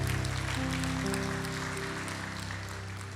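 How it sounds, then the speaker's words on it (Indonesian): A church congregation applauds in a steady, dense wash of clapping that holds throughout and eases slightly toward the end, with sustained keyboard or organ tones beneath it. "Mari kita berikan tepuk tangan buat bapak-bapak."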